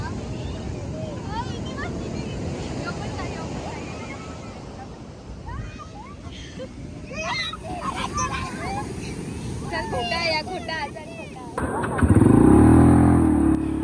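Motorbikes riding along a rainy beach at Alibag with surf and wind, a droning engine rumble rising and falling under crashing waves and gusty microphone wind, and a burst of louder noise near the end.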